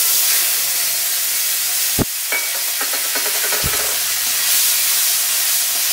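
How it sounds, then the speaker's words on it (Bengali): A paste of ginger, onion, garlic, green chilli and pepper hisses and sizzles steadily in hot oil, with a couple of sharp clinks as it is stirred in the pan. "আদা, পেঁয়াজ, রসুন, কাঁচা লঙ্কা, গোলমরিচ বাটা একসঙ্গে আমি ভেজে নেব।"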